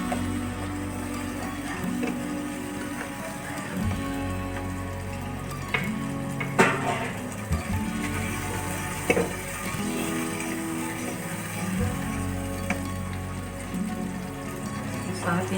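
Red onions sizzle steadily in a pan for an okra and mutton stew, a continuous frying hiss with faint clicks of utensils and occasional stirring.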